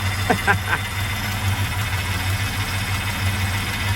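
A 1978 Chevy C10 truck's 250-cubic-inch engine idles with new spark plug wires, a deep, steady rumble and even low throb, close by, with a brief faint voice near the start.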